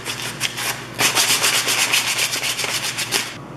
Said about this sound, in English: Then I just took a little sandpaper and sanded up the edges.